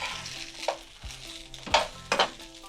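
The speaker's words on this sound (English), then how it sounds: "We're gonna stir them up a little bit" Summer vegetables and quinoa frying in a pan, a quiet sizzle broken by several distinct spoon-stirring scrapes and clinks, close by with no voices.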